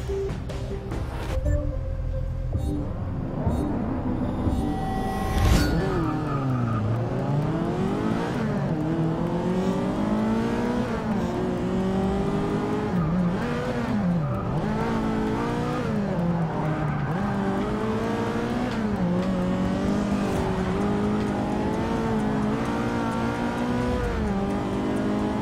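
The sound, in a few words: race car engine from video game Forza Motorsport 6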